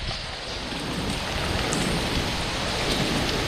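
Heavy rain from Hurricane Ian pours down steadily in Key West, a dense, loud, continuous wash of drops hitting surfaces nearby with no breaks.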